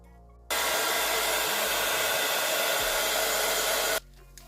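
A hair dryer blows steadily on freshly painted and gilded mini pumpkins, a loud continuous whoosh that switches on abruptly, holds for about three and a half seconds, then cuts off into quiet.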